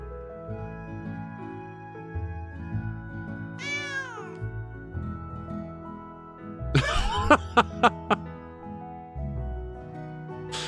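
A cat in the video game Potion Permit gives a rising-falling meow, followed by a quick run of short sharp meows over a steady musical background.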